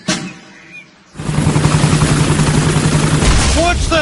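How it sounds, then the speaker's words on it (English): A cartoon helicopter in a Peppa Pig episode starts up with a loud, steady, chopping engine drone that runs for about three seconds. Voices talk over the noise near the end. "Miss Rabbit's helicopter has rescued Daddy Pig"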